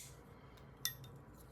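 A CJRB folding knife with a stonewashed AR-RPM9 blade snaps open in a single sharp, quiet metallic click, close by against a near-silent room, with no one talking.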